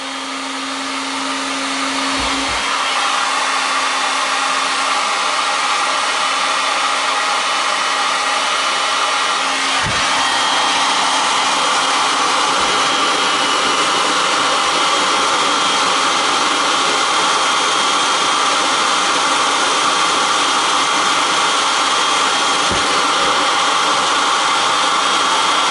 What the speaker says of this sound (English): Turn the gun back on and heat the last corner